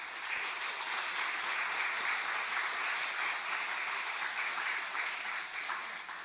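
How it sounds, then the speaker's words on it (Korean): A church congregation at a Sunday worship service gives steady, sustained welcoming applause for visiting missionaries, a dense even wash of clapping heard throughout without talk. "환영하는 박수 하겠습니다"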